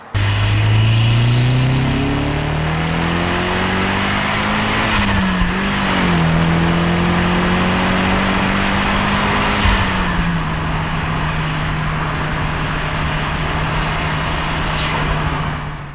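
A Nissan Silvia S15 pulls away on a test drive, its engine note climbing through revs in long loud sweeps with a gear change and a brief dip before settling into a steady cruising drone, all close and continuous.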